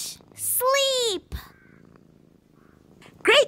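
Children imitate cats with drawn-out, rising and falling meows, two separate vocal imitations with a brief sharp sound between them, fairly close and clear.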